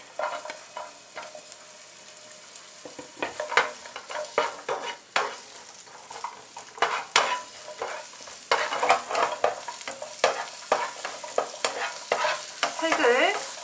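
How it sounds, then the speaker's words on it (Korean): Onions stir-fried over low to medium heat for a chicken à la king, with a continuous close sizzle broken by frequent scraping and stirring strokes that grow busier toward the end, no voices. "약한 불이나 중간 불로 색이 나지 않게 볶아줍니다. 가장 먼저 양파 넣겠습니다."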